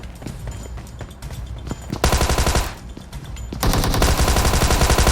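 A Thompson submachine gun fires in PUBG Mobile, with scattered shots followed by two sustained rapid bursts of loud, close automatic fire.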